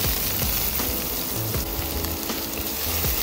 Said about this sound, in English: After 30 seconds, here you can then add the beef which you had kept aside